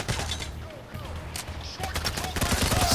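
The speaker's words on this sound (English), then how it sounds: "Just shoot, shoot, don't stop shooting." Rapid bursts of gunfire from the video game Payday: The Heist, with repeated shots and automatic volleys running throughout, loud and close, mixed with game noise and voices talking over it.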